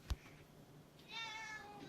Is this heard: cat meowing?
yes